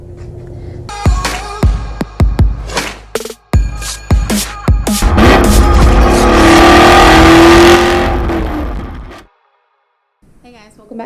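A 2019 Camaro SS 1LE V8 on a dyno fires off sharp, repeated blips, then holds a long, loud full-throttle pull for several seconds before cutting off abruptly; close and powerful, with a brief voice afterward.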